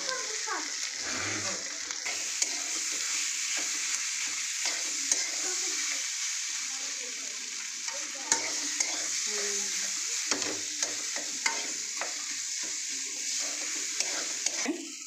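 Grated boiled potato for potato chops being stirred in a hot frying pan: a steady close sizzle with repeated scraping strokes of a spatula throughout.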